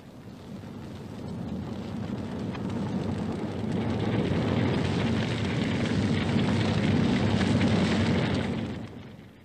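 A bushfire burns across the Australian landscape as a steady, dense roar that swells louder over several seconds, with no voices heard.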